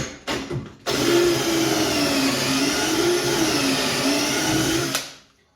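A power drill bores a pocket hole through wood using a Trend pocket hole jig in a workshop. It makes a loud, steady whine that wavers slightly in pitch for about four seconds, then spins down.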